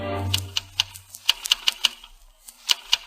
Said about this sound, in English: is in his private office typing a report